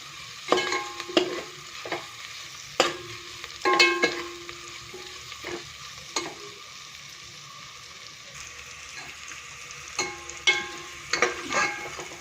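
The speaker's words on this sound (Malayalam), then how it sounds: "സവോള നന്നായിട്ട് വഴറ്റി എടുത്തിട്ടുണ്ട്" Onions sautéing in a pan for a Christmas beef stew, a steady background sizzle with repeated clattering stirs and scrapes at an irregular rhythm, close and fairly loud, with no voices.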